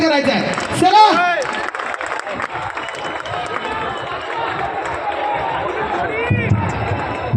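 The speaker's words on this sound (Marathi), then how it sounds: "जोरदार टाळ्यांचा कडकडाट, जोरदार टाळ्या।" A crowd claps and cheers at a large dahi handi festival event in Navi Mumbai. Dense applause and crowd noise run throughout beneath loud amplified talk from an announcer.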